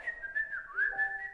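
A person whistles a short melodic tune alone, a bright, clear tone gliding up and down for just over a second, close and fairly quiet.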